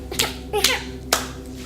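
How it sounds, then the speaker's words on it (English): A baby claps hands in a crib, three distinct sharp claps spaced irregularly over under two seconds, fairly loud and close, with faint child vocal sounds alongside. "That's a pretty loud clap for a baby now."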